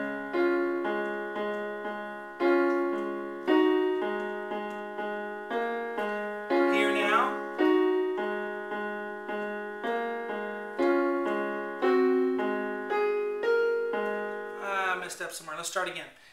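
Left-hand part of Chopin's Raindrop Prelude played alone on piano, a steady series of repeated low chords and notes, each decaying before the next strike, moderately quiet with a brief flurry near the end and no talk.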